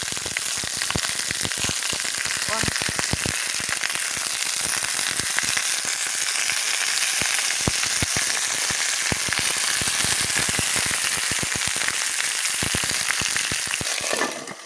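Steady frying sizzle of onion and whole peppers outdoors, with frequent sharp pops and crackles scattered throughout, close and continuous.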